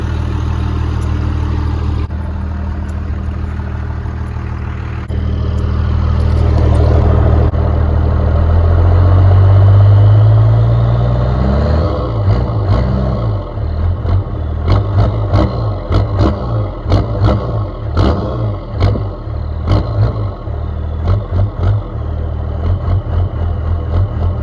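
A first-generation Cummins turbo diesel engine with a turbo-back 4-inch straight pipe runs loud and close, swelling into a long rev, then settling into a choppy, lumpy idle full of rapid low pulses.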